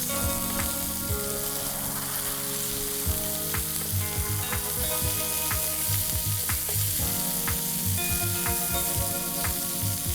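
Beef kebabs sizzling on a medium-high heat as they are turned one by one, a continuous close sizzle broken by repeated clicks and knocks of flipping, no talking.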